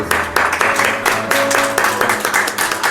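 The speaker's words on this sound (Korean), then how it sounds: "우리 환영의 박수." A church congregation claps together in a dense, steady round of welcoming applause during a Sunday service, fairly loud, with no talking over it.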